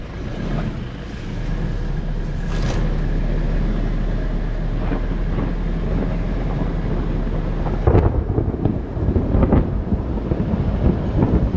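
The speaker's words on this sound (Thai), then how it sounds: "เสียงฟ้าร้อง" Deep, sustained rumble of thunder rolling on and on, loud and close, with a burst of sharper crackling toward the end.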